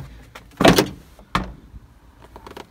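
A Ford E-Series RV's front door panel rattles and thumps as it is shaken and lifted off, two sharp plastic knocks close by with faint clicks between.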